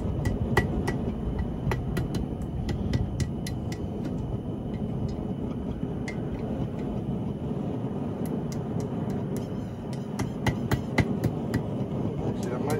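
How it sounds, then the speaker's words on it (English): Metal hammering on a hand-forged steel swing-arm pan holder, sharp ringing blows in irregular bursts over a constant loud background drone. "we're going to fix that up with a little bit more hammering"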